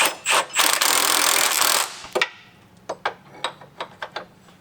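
Impact wrench with a 15mm socket tightening a mud flap bolt on a 2022 Ford Bronco Raptor, a loud rattling burst near the start followed by quieter clicks and knocks of handling.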